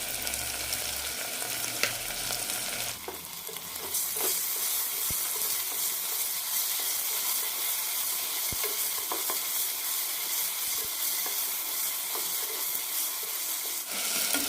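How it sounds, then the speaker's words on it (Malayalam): Ginger garlic paste sizzles and spits in a hot pan for a potato egg curry, a steady bright frying hiss with occasional crackles and stirring scrapes. "ഒരു ടീസ്പൂൺ ഇഞ്ചി വെളുത്തുള്ളി പേസ്റ്റ് കൂടി ഇടാം."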